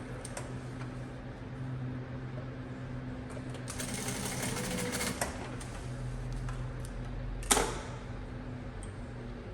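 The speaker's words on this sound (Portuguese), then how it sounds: "Vou costurar aqui um ladinho. Bem no meinho ali da marcação." A sewing machine runs steadily, stitching a backpack strap regulator in place along a marked line, with a soft continuous mechanical whir at moderate distance and one sharp knock near the end.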